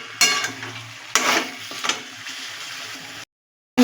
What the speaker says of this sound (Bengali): নাড়াতে থাকবো, নাহলে মশলাটা পোড়া লেগে যাবে।